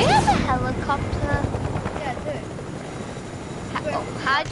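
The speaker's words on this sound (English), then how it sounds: "Do you have a helicopter?" Helicopter in Fortnite video game, a loud continuous rotor and engine drone running throughout, with people talking over it at the start and near the end.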